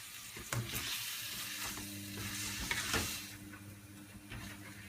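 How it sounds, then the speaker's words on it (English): Pad Thai frying in a pan with palm sugar being stirred in, a moderate continuous sizzle with scraping stirs and a few sharp clinks, no talk. "And then we stir."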